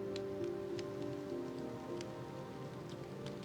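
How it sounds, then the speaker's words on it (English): Steady rain ambience from the Minecraft video game, an even hiss of falling drops that continues without break and sits under some soft tonal lines. "it's kind of a rainy day out here"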